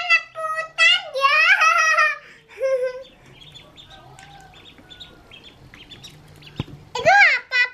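Short bursts of duck quacking and chirping, near and loud at the start and again at the end, with quieter background noise and faint voices between.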